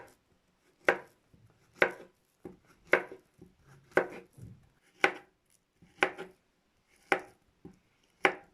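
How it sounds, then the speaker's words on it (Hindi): Bananas are chopped with a knife on a board for a creamy fruit chaat, about eight crisp, evenly spaced chops roughly once a second, close and clear with quiet gaps between and no talking. "अब मैं इसमें केले काटूंगा।"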